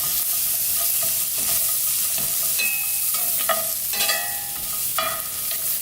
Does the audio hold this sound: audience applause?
no